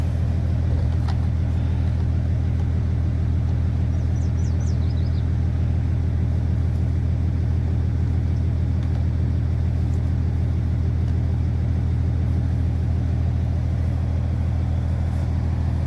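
Low, steady truck engine rumble from a vehicle with a camper, creeping slowly in a national forest, continuous and fairly loud throughout with no talk.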